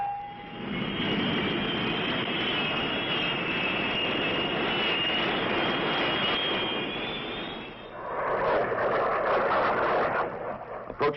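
A US Marine Corps close air support jet from the 1966 era roars loudly and steadily overhead, its sustained broadband engine noise shifting to a brighter, harsher tone near the end.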